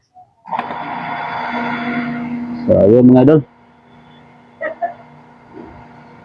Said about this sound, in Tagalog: Iba na yung tunog ng motor mga idol.